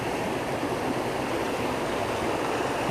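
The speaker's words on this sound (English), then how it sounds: "Really nice little river" A small river near hot springs in Costa Rica rushes steadily, a close, even broadband wash of flowing water with no voices or breaks.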